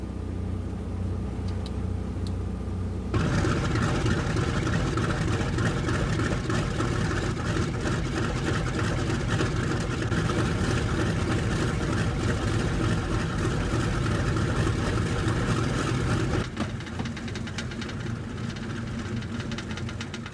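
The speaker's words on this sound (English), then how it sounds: "sits at the flight engineer's console to start all 4 engines" All four radial engines of a B-29 bomber starting up, a dense, loud, steady roar that kicks in abruptly after a quieter idle and drops back down near the end, with no talking.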